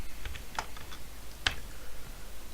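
Sparse taps on a computer keyboard while writing C code, a few faint, isolated keystrokes spaced apart over a low background hiss.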